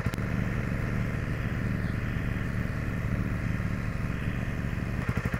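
A Honda CRF300 Rally motorcycle on its stock exhaust runs at a steady, fairly quiet idle, an even low putter with no other sounds.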